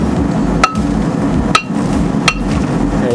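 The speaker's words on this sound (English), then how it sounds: "So take that hammer and just smack the back of that rotor." A hammer smacks the back of a brake rotor still on the hub in a backyard car repair, three loud, sharp metallic strikes spaced about a second apart over a steady low background hum.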